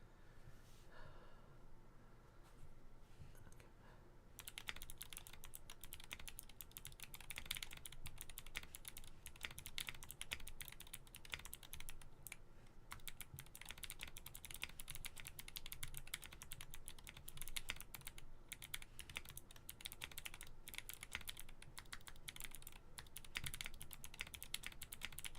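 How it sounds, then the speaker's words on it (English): Someone types on a Zoom 65 mechanical keyboard connected by USB, producing a fast, continuous run of close, soft clacking keystrokes that starts after a brief quiet moment and continues without pause. "let us type this out"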